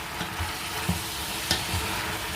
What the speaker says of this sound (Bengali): দেখেন আমাদের মাংসটা ভাজা ভাজা হয়ে গেছে